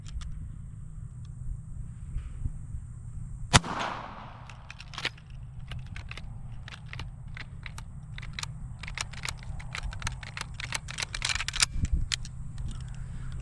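An 1860 Spencer carbine fired at 100 yards, a single loud close shot followed by a run of metallic clicks and rattles of handling the action over a steady low background hum.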